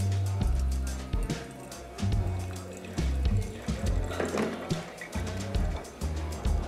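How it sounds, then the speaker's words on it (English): Hot water pours from a kettle over a V60 paper filter in a few separate streams with short pauses between them, splashing softly and close by. "So we're going to rinse out the filter with hot water from our kettle."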